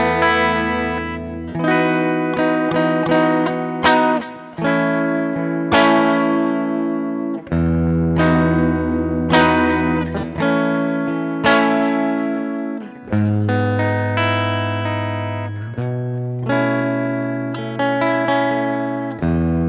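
Electric guitar played through a PISARIEZ PS888 TBL effects pedal, a sequence of sustained chords and single notes with smooth, balanced distorted tone and reverb, close and clear with no talking.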